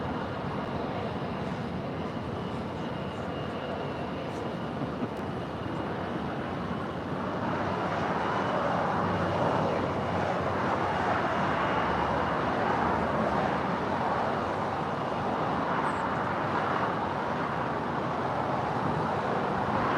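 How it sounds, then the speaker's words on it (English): A United Boeing 777-200ER departs runway 25 right at LAX, a steady distant jet roar that swells and broadens midway and holds loud to the end, with no voices. "We've got the United 777 200ER heading to Newark is the next departure on"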